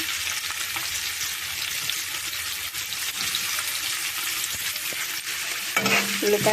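Onions tossed into hot oil after cumin seeds in a pan, producing a loud, steady sizzle and frying hiss that runs throughout, with a brief clatter near the end.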